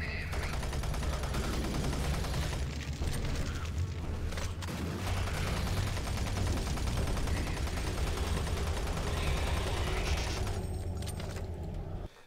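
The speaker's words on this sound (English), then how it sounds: "Why have I been using my minigun?" Minigun fire in the video game Doom 3 Resurrection of Evil: a continuous, dense rattle of rapid shots that runs nearly unbroken for about twelve seconds, loud and steady, with in-game sounds mixed underneath.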